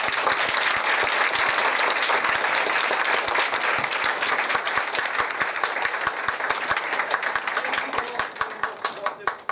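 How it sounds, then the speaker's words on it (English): Loud, sustained applause from a large audience for student performers at a Year 12 leadership project show, with dense continuous clapping and individual sharp claps standing out, tapering slightly near the end. "I want to give them a round of applause again"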